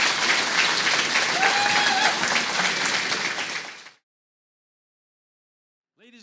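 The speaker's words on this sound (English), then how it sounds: "let's give them a round of applause as a group of fine young fiddlers" Audience applause for a group of young fiddlers at a North American fiddle championship in Radway, Alberta, a dense, steady burst of clapping that fades out after about four seconds, followed by silence and then a voice starting to speak.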